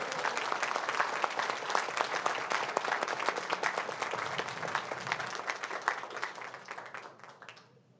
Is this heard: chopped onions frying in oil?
no